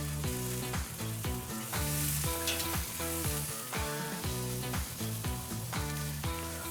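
A steak sears in a hot pan, a steady, bright sizzle running under loud, rhythmic background music for the whole stretch.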